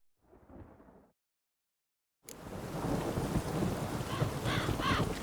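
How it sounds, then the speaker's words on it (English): Heavy rain and rolling thunder in The Witcher 3: Wild Hunt, a broadband wash of downpour that begins abruptly after a short quieter stretch and then holds steady and loud, with faint bird calls near the end. "Rain again. Damn mages."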